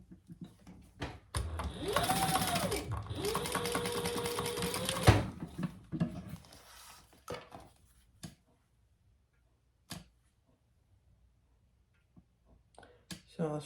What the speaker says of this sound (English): Just a little top stitching on either side of that on those seams.